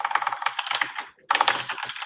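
Keys clatter on a computer keyboard in a quick irregular patter, close and clear, with a brief pause midway before the typing resumes.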